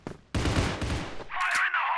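A burst of rapid M16A2 rifle fire in the game Crossfire crackles for about a second, then a ringing electronic whine takes over; game-like and loud, with no talking.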